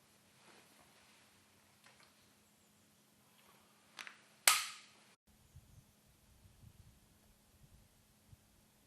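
A single sharp shot from a Sauer 303 semi-automatic rifle in 7x64 caliber, a loud crack with a short decay standing out from quiet background, preceded by faint clicks.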